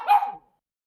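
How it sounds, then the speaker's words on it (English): A single short bark from a pug indoors, brief and fairly close, then silence. "you might hear a little bit of barking."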